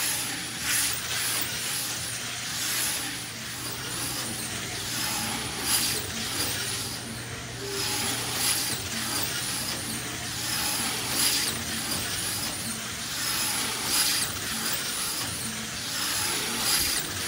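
DoSLOT brushless slot car running flat out at 13.8 volts in the orange lane, a steady high-pitched motor whir with rhythmic surges as it circles the track, continuous and close, no talk.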